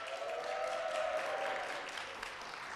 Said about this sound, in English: Lisa walked in right as the thunderous applause happened